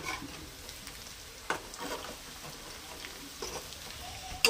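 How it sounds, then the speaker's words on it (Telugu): Chicken pieces fry in a pan with a steady, close sizzle and crackle, broken by a few sharper scraping knocks as the pieces are turned. "చికెన్ అయితే మధ్య మధ్యలో మనం తిప్పుకుంటూ ఉండాలి మాడకుండా"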